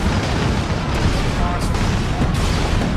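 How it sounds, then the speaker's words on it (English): Basilisk artillery guns firing in the Space Marine video game, a dense, continuous rumble of heavy booms and blasts filling the whole moment, loud and close, with a voice faintly under the noise. "The big basilisk guns."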